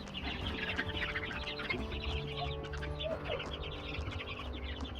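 Chicks in a small brooder space cluck and peep continuously with dense, busy chirping close by, over a steady low hum, with no talk.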